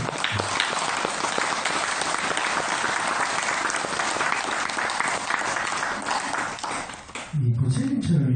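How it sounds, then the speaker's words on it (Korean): Big applause from a temple audience at a Buddhist dharma talk, dense sustained clapping for about seven seconds that fades into a low murmur and a few voices at the end. "큰 박수"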